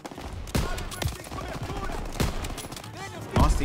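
Several loud, sharp gunshots crack in an irregular sequence amid busy background noise in the Call of Duty: WWII campaign.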